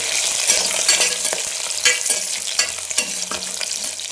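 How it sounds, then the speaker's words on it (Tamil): Chopped onion, green chili and curry leaves frying in hot oil after mustard seeds pop, a close, busy sizzle with crackles and intermittent stirring scrapes throughout. "கடுகு பொறிஞ்சோடனே வெங்காயம் மிளகா கருவேப்பிலை கொட்டியாச்சு"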